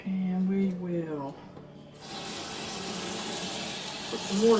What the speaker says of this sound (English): put some water in there, about 2 inches above the potatoes